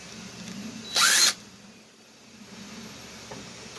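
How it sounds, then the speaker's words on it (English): A power tool gives one short, loud burst of about a third of a second while driving screws on the transmission case of a 2WD Traxxas Rustler RC car, then falls quiet against faint room noise. "You can use power tools if you want."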